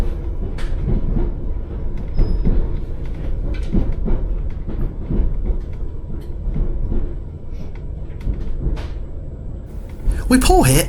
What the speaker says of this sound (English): We pull here into Lake Station